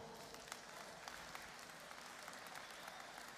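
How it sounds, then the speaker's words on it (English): An audience at a business seminar congress applauds steadily for several seconds, a dense, even wash of clapping filling the room from start to finish with no voices rising above it. "Give me a round of applause for Rob."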